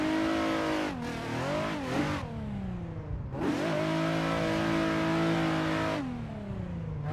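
A drift car's engine in a racing video game, revving hard and bogging in third gear on the Happogahara course: a loud, continuous engine note that rises and falls in pitch with several sharp dips and recoveries.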